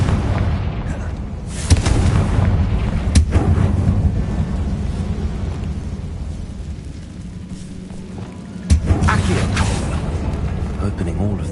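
Confringo spell explosions in Hogwarts Legacy sound as deep, booming blasts over a steady rumbling game backdrop, one sharp hit early and another near the end, loud and close, with speech present.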